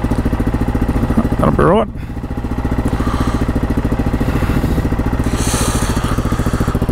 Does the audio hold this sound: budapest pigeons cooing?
no